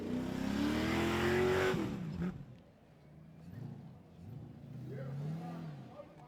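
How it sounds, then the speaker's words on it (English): A Suzuki off-road 4x4 truck's engine revs hard at an extreme 4x4 challenge, then drops to a lower idle and rises again in bursts, with a voice speaking faintly over it. "Oh, that truck sounds great."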